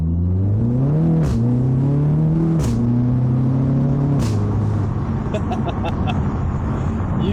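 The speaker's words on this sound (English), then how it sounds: "we're going to go for another first gear pull away again, but this time with the windows down so you can really appreciate that exhaust" An Audi TT's exhaust pulls away hard in first gear, heard with the windows down: a loud, steady engine drone climbs in pitch, drops at each shift, and climbs again before settling into a rumbling cruise over road noise.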